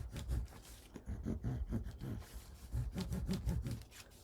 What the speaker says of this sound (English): And fold and burnish.